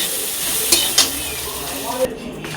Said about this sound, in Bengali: কড়াই গরম হয়ে গেছে, তেজপাতা আর জিরে দিয়ে দিয়েছি।